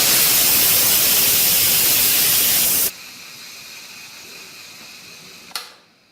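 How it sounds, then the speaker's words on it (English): An Instant Pot pressure cooker vents steam during a quick release, a loud steady hiss that drops abruptly to a quieter, thinner hiss and then fades out, with no voices. "The second way is the quick release, and that means you just turn the steam release handle to the venting position."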